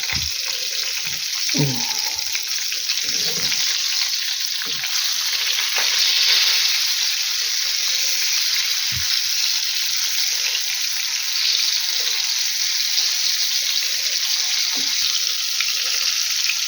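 Steady, loud sizzling of cutlets frying in a pan, a constant crackling hiss with occasional clinks and scrapes of utensils.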